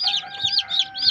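A cluster of newly hatched chicks peeps in rapid, high-pitched overlapping chirps, close and continuous, with no talking.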